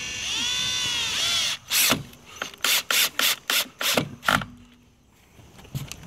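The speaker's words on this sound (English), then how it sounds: "Take a little regular sheetrock screw." A sheetrock screw is driven into epoxied wood with a power driver, a short whir followed by a series of about eight sharp ratcheting bursts, close and loud, then quiet.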